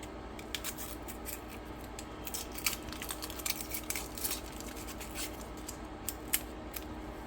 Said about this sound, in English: I'm going to remove the outer layer from this onion, and then I'm going to slice it